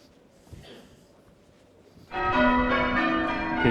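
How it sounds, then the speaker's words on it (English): Quiet ambience gives way abruptly to church bells ringing loudly in Canterbury, their bright overlapping tones sustaining and layering together. "You can hear the church bells."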